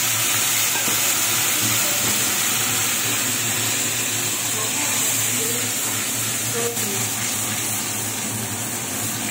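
Spice paste of cumin, dried chilli, tomato and ginger, along with spice water, hitting hot oil for a Bengali telkoi jhal, giving a loud, dense, continuous hiss and sizzle close by, with no talk.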